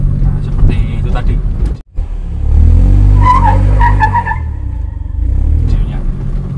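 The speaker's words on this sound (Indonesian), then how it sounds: "Mobil ini kita gas langsung ini bisa." A 2012 Suzuki Swift in good condition sits in a residential garage area as its engine is revved, a loud sustained roar rising after a brief cutoff, with someone talking over it.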